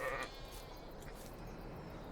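A sheep in the video game Farming Simulator 22 gives a short bleat right at the start, then only a low, steady ambient hum from the farm remains.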